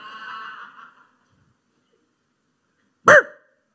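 A man imitates a dog with a single sharp, loud bark-like yelp, preceded by a short stretch of his speech and then a pause of silence.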